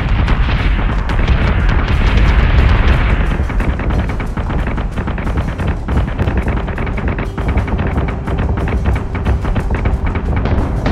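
Missile explosions in the space combat video game Battlestar Galactica Deadlock: a dense, continuous barrage of loud booms and bursts layered over a heavy rumbling bed, with no let-up across the stretch.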